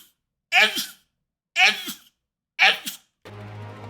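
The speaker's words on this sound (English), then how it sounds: "Excuse me while I sneeze." Three sharp, separate sneeze-like bursts about a second apart, loud and close, followed by a steady low hum; no talk.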